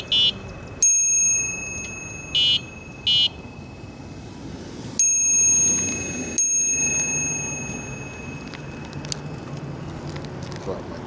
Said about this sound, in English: honking my horn and ringing my bell